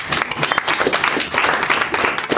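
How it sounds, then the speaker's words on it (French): Audience applause for participants answering quiz questions at a community foundation gathering in Lingwala, dense steady clapping with some crowd voices mixed in, lasting a couple of seconds. "Vous pouvez applaudir pour vous-même"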